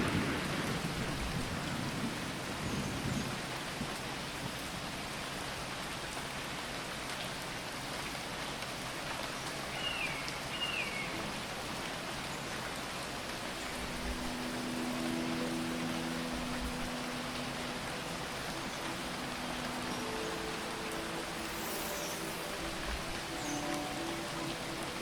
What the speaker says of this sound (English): The rain is coming from very small clouds, as if the planet is sucking the water out of them.